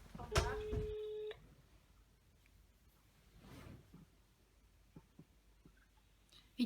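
An indoor telephone gives a short electronic ring tone, loud and close, followed by quiet room noise and soft handling sounds.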